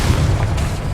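A booming fire-spell blast, the Confringo explosion from Hogwarts Legacy on PS5, thuds heavily with a deep low rumble through the whole second amid constant loud battle noise.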